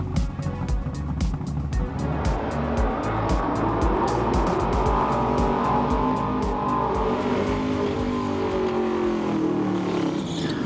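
Two drag racing cars at a Street Eliminator national final semi-final roar loudly and continuously, engine pitch rising and sweeping as they run, with crowd and track noise mixed in.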